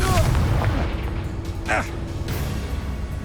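The Confringo fire spell explodes in the game Hogwarts Legacy: heavy booming blasts with rumbling low thuds and a sharp burst partway through, set against continuous combat noise.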